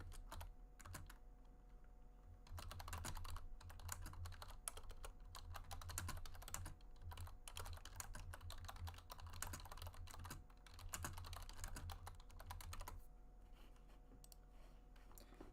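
Quiet, steady typing on a computer keyboard, with soft clustered key clicks in uneven runs and brief pauses, close to the microphone, with no one speaking.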